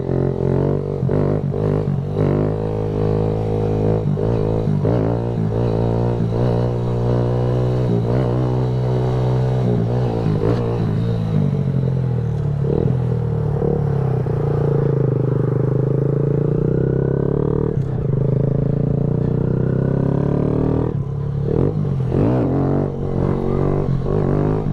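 A Kawasaki Z125 small motorcycle engine revs and holds loud, steady throttle during a wheelie stunt, with rising and falling pitch, close to the microphone and accompanied by wind buffeting and clatter.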